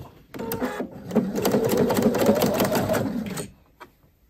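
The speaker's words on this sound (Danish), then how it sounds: "så er vi klar til at sy to bærestyksømme her på forstykket" A sewing machine runs close by, sewing yoke seams on the front piece of a shirt with a double yoke, one burst of fast, rhythmic stitching lasting a few seconds that then stops with a faint click.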